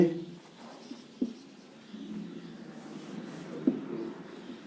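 Marker or chalk writing a sentence on a board in a classroom, a couple of brief scratchy strokes and taps under a man's ongoing speech.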